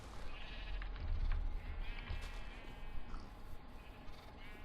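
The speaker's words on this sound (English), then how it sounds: "those sheep can be sort of wild" Sheep in a Minecraft-style video game bleat in a series of wavering calls over a steady rumbling background, with no talking.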